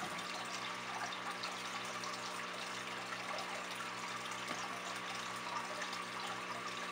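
Water pouring or running steadily while a pet's enclosure water is changed, a continuous splashing wash with a low hum underneath, close and moderately quiet, no voices.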